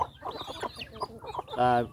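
Fighting-breed chickens cluck and chatter nearby in a steady low murmur, ending in a louder drawn-out squawk, with faint background noise throughout.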